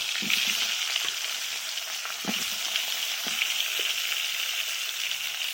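Kohlrabi pieces frying in hot oil left from frying eggs and potatoes, a close, steady crackling sizzle with scattered pops and a few soft knocks of the pan.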